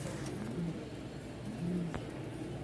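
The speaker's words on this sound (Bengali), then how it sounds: "এখানে আরও 2 পেয়ার কবুতর," White pigeons coo softly twice in a low, rounded call against a faint hum of background noise, distant and quiet with no talk.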